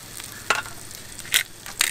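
Potatoes and eggs with bacon fry in a skillet with a steady low sizzle, broken by three brief scraping stirs.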